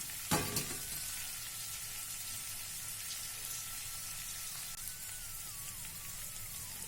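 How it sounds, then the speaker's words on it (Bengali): Brahmi leaves drop into hot ghee with a brief sharp burst, then settle into a soft, steady frying hiss that stays faint and even. "ঘিটা গরম হয়ে গিয়েছে, এর ওপরে দিয়ে দিলাম ব্রাহ্মী শাক।"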